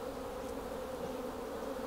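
Honey bees buzz during the installation of a package into a hive, a faint steady drone with a constant hum and no voices.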